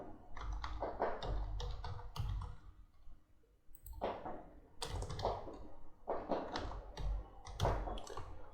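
Typing on a computer keyboard while working in MS Excel, close and clear: bursts of rapid, uneven key clicks separated by short pauses, with no talking.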